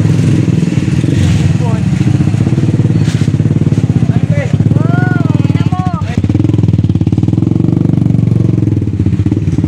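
Motorcycle engines rumble and rev steadily close by, with people talking over the noise throughout.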